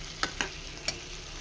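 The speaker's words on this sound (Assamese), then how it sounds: "আৰু ফুলকবিখিনি ধুনীয়াকৈ ভাজি লৈছোঁ" Cauliflower florets fry in a pan, with a soft steady sizzle and three quick scraping stirs of a spatula close by.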